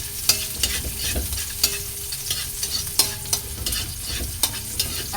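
Garlic sautés in a pan for Filipino menudillo, giving a close, continuous sizzle broken by regular scraping stir strokes, with no voices.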